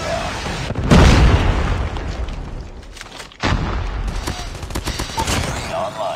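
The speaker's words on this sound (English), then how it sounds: "Friendly predator missile inbound." A predator missile strike in Call of Duty, a loud booming explosion followed by a second heavy blast and rolling gunfire, with crackling debris and distant shots trailing off.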